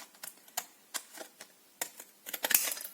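Large scissors snip through card in a quick series of sharp, close crisp cuts, with uneven pauses between strokes and a brighter cluster of snips toward the end.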